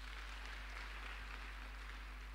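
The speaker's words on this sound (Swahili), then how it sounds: "hebu tumpigie madhe wetu makofi" Church congregation clapping for the pastor's wife during a Sunday service, a faint, steady wash of applause over a low electrical hum.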